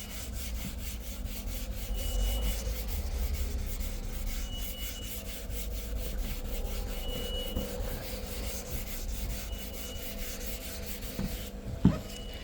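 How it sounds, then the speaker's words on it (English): Wet sandpaper on a sanding block worked by hand across a scratch in a car's paint, giving a faint, steady back-and-forth rubbing rasp that continues for several seconds with a small knock near the end. "And we're just going to start sanding"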